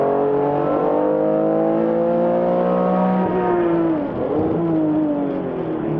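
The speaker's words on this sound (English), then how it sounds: "That's going to put Thurlow in the lead in that Corvette, number 53." Race cars, including a Corvette, race around a track at a historic reunion event, with a loud sustained engine whine rising and falling in pitch as they speed past, no talk.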